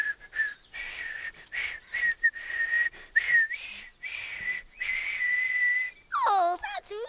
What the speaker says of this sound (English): Hey, I can whistle. Listen, I can whistle my tune.